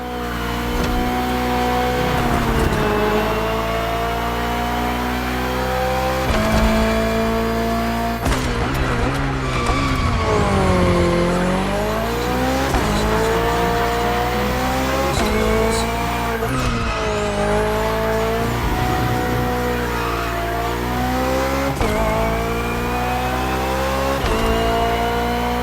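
BMW Hybrid V8 race car in The Crew Motorfest, engine droning loud and steady throughout with shifting pitch as it accelerates and brakes, tires squealing through corners, with a constant game music bed and no talk.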